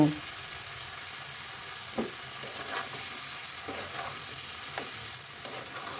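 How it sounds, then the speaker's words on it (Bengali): Spices for a Bengali fish curry (jhol) stirred and frying in a pan, a steady low sizzle with a few soft scraping stirs scattered throughout, no talking. "এখন সব মশলা মিশিয়ে ঢেকে কষাতে থাকবো"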